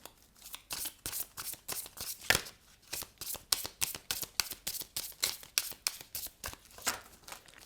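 Tarot and oracle cards drawn and handled one after another, a steady run of crisp papery flicks and shuffling slaps, close and clear with no talk.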